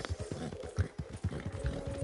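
A White Arabian horse in a video game clip-clops along with quick, regular hoofbeats close up, a steady trotting rhythm with no talking over it.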